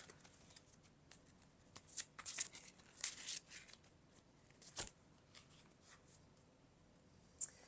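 An oracle card deck being shuffled by hand, with soft, quiet, irregular papery riffles and slides spread across several seconds and a sharper tap near the end, close, with no talking.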